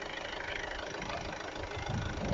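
A 2012 SsangYong Korando D20T AWD diesel turbo engine idles close by with a steady, rough rumble and dense clatter, growing slightly louder toward the end, with no talk.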